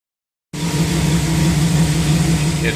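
A car engine runs after a throttle body injection (TBI) install, starting abruptly from silence and holding a steady, close idle with an even mid-pitched drone; no one speaks.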